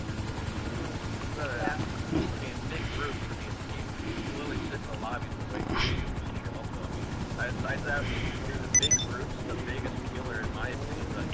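Helicopter in a video game, its steady low rotor rumble droning throughout at moderate loudness beneath excited overlapping voices, with a few sharp bursts cutting in.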